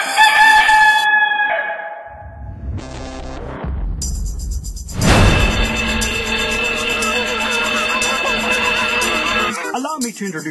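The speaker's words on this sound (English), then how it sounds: "I think you may have gotten a rogue chicken in your hen house." Rooster crowing inside a hen house, a loud harmonic crow at the start, followed by dense clattering and shuffling noise that fills the rest of the clip.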